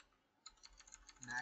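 Keys clatter in a quick run of taps as a password is typed on a Mac computer keyboard, fairly close and moderately loud with no talking.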